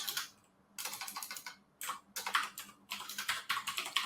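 Quick bursts of typing on a computer keyboard, close and crisp, in several short runs of rapid key clicks separated by brief pauses, with no talk over them.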